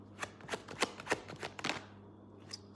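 Tarot cards riffled and shuffled by hand in a rapid series of crisp, close flutters and snaps, fading into a softer handling sound at the end, with no talking.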